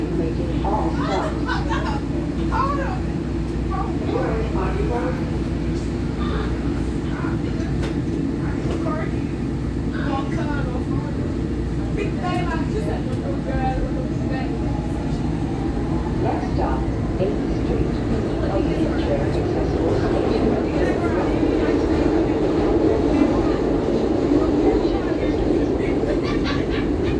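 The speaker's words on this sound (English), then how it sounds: "Frankford train making all stops." SEPTA Market-Frankford Line subway train running through its route, a steady loud rumble of wheels and motors with rail clatter and squeal swelling toward the end, continuous under scattered onboard chatter and announcements.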